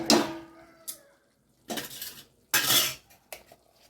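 A metal ladle scrapes and clanks against a pan of pepper chicken in several short bursts, close and fairly loud, with pauses between strokes.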